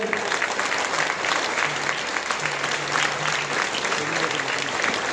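A crowd at a Tamil public event claps hard and continuously, a thick even patter of many hands, while a few voices murmur underneath.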